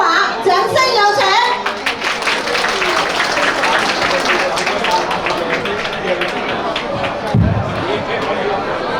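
A crowd at a New York association's centennial Lunar New Year gala applauds to welcome the chairman to speak, with dense sustained clapping mixed with crowd noise and voices.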